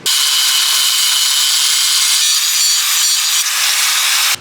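A loud power tool cuts wheel lug studs shorter on a Kei truck, giving a harsh, continuous high grinding screech close by that holds for about four seconds before stopping.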